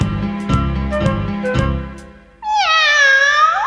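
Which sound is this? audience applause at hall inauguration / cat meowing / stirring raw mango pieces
cat meowing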